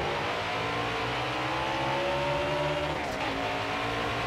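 Several NASCAR race cars in the NASCAR Heat 5 game accelerate together, with overlapping engine tones that climb steadily and drop at gear shifts, a dense continuous roar with no voices.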